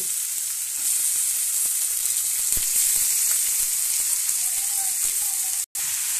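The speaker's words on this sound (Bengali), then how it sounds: "মাংসগুলো দিয়ে ভালো করে কষিয়ে নিচ্ছি" Meat fries with spices and chopped tomato in a pan for a curry, giving a loud, steady sizzle like light rain, close up. It cuts out abruptly near the end.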